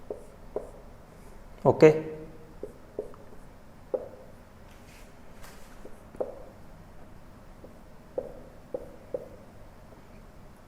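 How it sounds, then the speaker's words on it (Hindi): A pen scratches and taps on a surface while a chemical molecule is written by hand, short scattered strokes with one louder scuffle, and someone speaks briefly. "मैं एक मॉलिक्यूल लिखता हूं"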